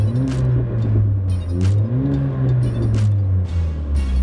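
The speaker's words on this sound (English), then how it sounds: "whenever I rev up the car, you guys watch the gauges move" A Mercedes four-cylinder inline turbo engine rated at 350 horsepower revs repeatedly up and down from inside the car, with a steady low drone swelling into several loud surges.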